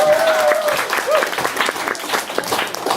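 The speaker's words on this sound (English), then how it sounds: "Everyone, a round of applause." Audience applause at a fringe candidates' debate, a dense, sustained wash of many clapping hands, with a voice or two briefly audible within it.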